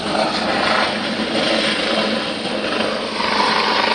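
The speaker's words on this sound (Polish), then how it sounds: "Helikopter, nie wiem czy było widać" Loud, steady helicopter rotor drone close by as it lands, a continuous whirring roar with rhythmic blade chop, no speech.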